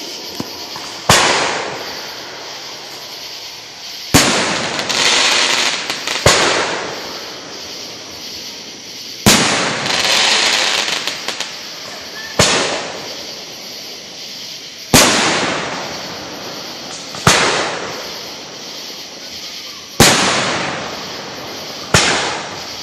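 Fireworks at the 2015 Moon Boom show in Marietta: about eight heavy, loud booming bursts, each trailing into a crackling, rumbling decay, spaced every few seconds with no talk.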